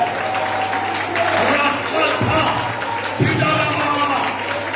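A church congregation claps hands in praise, a steady broadband wash of clapping with a couple of sharper accents, heard alongside a preacher's continuous amplified voice.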